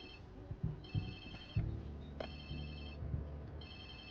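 Video game phone ringtone from Watch Dogs 2, an electronic ring in repeated bursts over a low, murmuring game background of ambience and distant rumble, fairly quiet overall.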